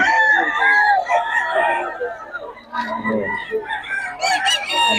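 Several chickens cluck and a rooster crows nearby, overlapping calls filling the air with a low murmur of voices in the background, at a gamecock gathering in Bocaue.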